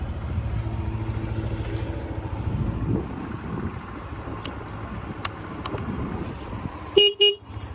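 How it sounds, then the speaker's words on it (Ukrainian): A Yamaha Majesty 155 scooter sounds two short, sharp honks near the end, after several seconds of quiet low background rumble. "Ну і бібіка."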